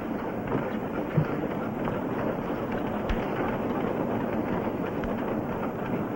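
Train rolling along rails in a western TV drama, a steady, close, broadband rumble with faint rattles and one or two small knocks, heard alone without speech.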